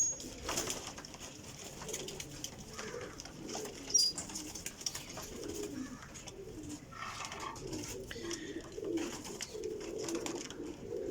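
Flying pigeons kept for sale in Jhelum coo softly in a loft, low murmuring calls repeating faintly and somewhat distant over a rustling, noisy background.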